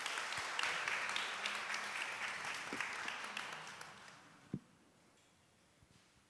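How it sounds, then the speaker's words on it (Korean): An audience at an international community conference in Korea claps, the dense applause starting at full strength and then fading out over a few seconds, leaving a quiet hall with a few scattered sounds. "큰 박수 주십시오."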